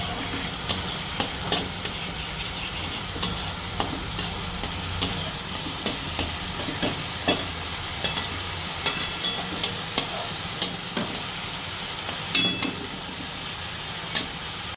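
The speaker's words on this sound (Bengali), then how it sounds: "নারকেল কোড়াটা দিয়ে ভালো করে নাড়বো, নেড়ে একটু তেল ছাড়লে তারপরে আমি বাদবাকি মশলাগুলো অ্যাড করবো।" Grated coconut and spices frying in oil for potol dorma while being stirred, a steady sizzle with regular scraping strokes of a spatula against the pan, close and fairly loud, no talk.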